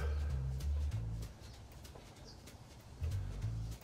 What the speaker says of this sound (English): The birds, they chirp.